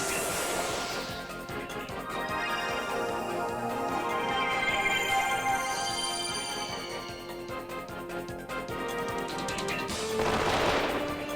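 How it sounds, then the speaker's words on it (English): Gunfire rattles through a turn-based battle in the video game Wild Arms 3, repeated shots layered over the game's music at steady loudness, ending in a louder burst. "Alright, Extension needs FP 25, so we'll have Gallows shoot to get some FP."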